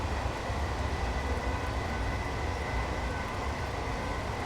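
Train Simulator game train on the Peterborough to Newark North line toward Lincoln, a steady low rumbling roll of wheels and engine, constant and fairly quiet with no talk.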